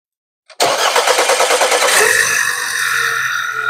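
An Audi A5 TFSI petrol engine, timing chain just replaced and mass airflow sensor unplugged, cranks briefly after silence, then catches and settles into a loud, close, steady idle.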